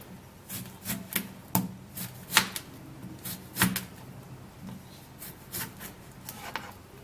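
Fresh cucumber being sliced on a cutting board, a run of irregular knife taps and chops, some sharper than others, close and alone.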